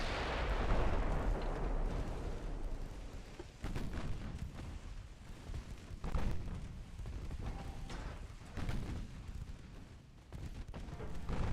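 Battleship main guns landing hits in the naval game Ultimate Admiral Dreadnoughts: a heavy opening boom rolling off, followed by several further deep blasts and crashes spread unevenly across the stretch, fairly quiet overall.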